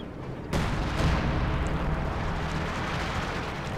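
Mortar half-track artillery fire in Company of Heroes 2, a sudden loud boom that sets off a dense, sustained rumbling wash of battle noise that holds steady to the end.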